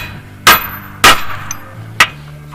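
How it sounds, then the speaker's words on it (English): Three sharp metallic hammer blows from a small sledgehammer driving an old pulley bearing out of a Ford 4.6/5.4 pulley through a beat-up socket, spaced unevenly with ringing decay after each strike. "to drive out the old bearing, I'm just using a small sledge"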